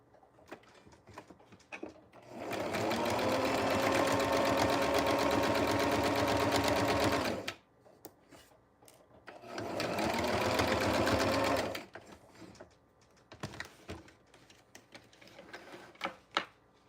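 A sewing machine runs in two steady, close bursts of several seconds each while stitching a seam on a vest lining, with quiet handling clicks and rustles filling the pauses.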